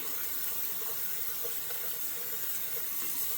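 Water runs steadily from a sink tap as hands are washed, a constant soft hiss and splash with no talking.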